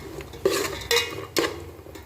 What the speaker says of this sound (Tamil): இப்போ நம்ம பாதாம், முந்திரி, திராட்சை எல்லாத்தையும் லோ ஃப்ளேமில் வச்சு நல்லா பொன்னிறமாக வறுத்துக்கலாம்